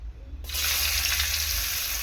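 Chopped onion sizzles loudly as it drops into hot oil in a pan for a tilapia curry with mustard and ginger paste, a steady close frying hiss that starts abruptly and continues alone.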